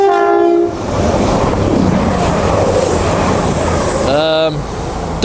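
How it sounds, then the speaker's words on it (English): A CrossCountry Voyager passenger train on a Newcastle to Reading service runs straight through Chesterfield station, its horn sounding at the start and again near the end over a loud, continuous rumble and rush of the passing train. "Pass through now will be a cross-country Voyager, working service from Newcastle to Reading."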